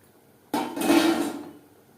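Fried rohu fish pieces and a fish head drop into a pot of gravy with mankochu: one sudden close clatter and sizzle that swells briefly, then fades out over about a second, with no talking.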